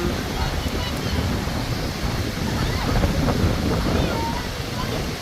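Sea waves at Cha-am beach in Phetchaburi wash in on a rising tide, a continuous broad roar of surf with wind buffeting the microphone throughout.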